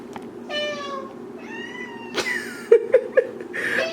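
A pet cat meows repeatedly in a home kitchen while vegan wing batter is being made, with drawn-out, wavering cries close by and a few short chirps near the end over a low background hum.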